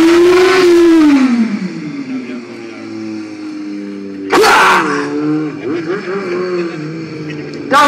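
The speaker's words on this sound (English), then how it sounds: "Getting the rear wheel spinning and going in a complete circle." Motorcycle spinning its rear wheel through a full-circle donut, the engine revving loudly with a sustained droning whine that rises and falls, plus a sharp burst of tyre-scrub noise midway.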